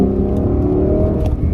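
A 2021 Lexus LC500 convertible with a 10-speed automatic accelerates hard, its loud exhaust giving a steady, close, rising engine drone with no talk over it.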